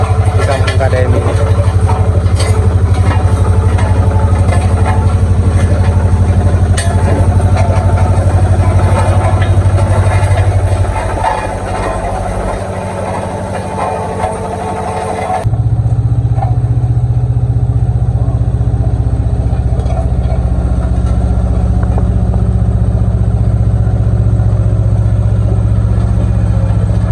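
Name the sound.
road roller machine arriving for paving block road work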